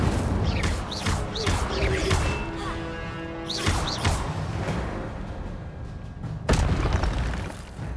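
Incendio fire spell cast in the Hogwarts Legacy video game, a run of loud whooshing bursts and booming flares over a dense, busy game soundscape, with a strong hit near the end.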